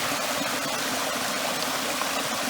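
A mountain waterfall and stream in Spain pour out a steady, loud, continuous rush of water that holds even from start to finish, with no voices.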